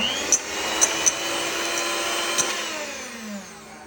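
An electric mixer beats butter for eggless butter cookies, a steady whirring motor hum with a few brief sharp taps rising above it.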